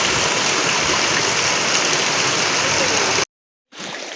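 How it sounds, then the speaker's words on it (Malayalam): Heavy rain falls outside in a loud, steady hiss that cuts out abruptly near the end, then returns a little quieter after a short silence. "അപ്പോൾ നല്ല മഴയാണ് കേട്ടോ പുറത്ത്"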